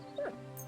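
A dog in the video game Kingdom Come: Deliverance 2 gives one short rising whimper or yip, brief and close, over a low steady game ambience.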